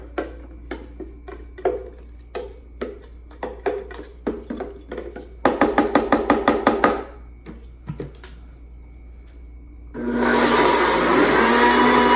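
A blender grinding cayenne peppers for hot sauce whirs in short bursts, then runs in a longer steady grind near the end, with clicks and knocks between pulses.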